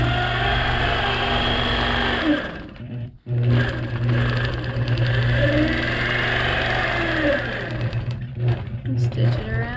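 A sewing machine stitching echo lines around a retro nested-square quilt block: a loud, steady mechanical whir that runs nearly throughout, briefly stopping once, then resuming, all close up.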